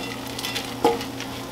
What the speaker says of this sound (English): Going to stir that around.